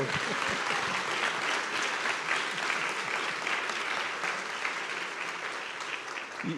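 Sustained applause from a large audience at a writing and reading event in Mexico fills the space evenly, a thick continuous roar of clapping hands heard close throughout, with faint chatter beneath.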